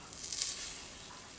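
Butter sizzles faintly as it melts in a preheated skillet, giving a soft, steady hiss with a light crackle near the start and no talking.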